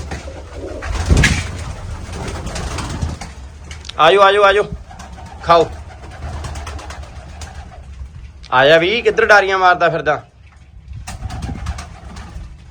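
Pigeons coo softly nearby while a person calls out to them in bursts of speech, with occasional rustling in between.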